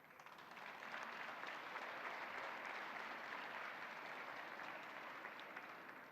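A room of listeners at a ceremony honouring Canada's Paris 2024 Olympic athletes breaks into applause, swelling within the first second into a steady, even wash of clapping that holds for several seconds, recorded at a low level.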